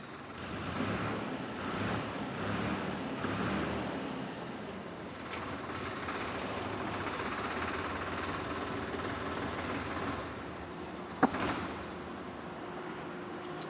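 A self-start Sonalika DI 32 tractor with about 300 hours of use idles steadily, its engine giving a continuous close rumble with a brief sharp knock near the end and no talking.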